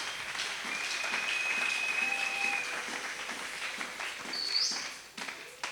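Church congregation applauding at a service, a broad steady wash of clapping lasting several seconds with a few faint bird-like chirps above it, then tapering off near the end.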